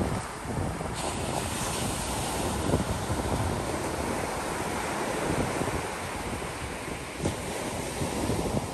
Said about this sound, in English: So Delaware Seashore State Park, right in the Atlantic Ocean.